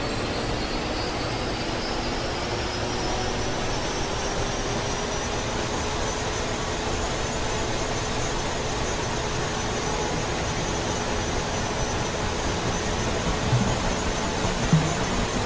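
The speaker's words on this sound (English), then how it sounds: "got a good engine start by the looks of it" A Huey helicopter's turbine engine spools up in the DCS flight simulator, a loud, steady whine with a slowly rising tone layered over a dense roar, sustained throughout without speech.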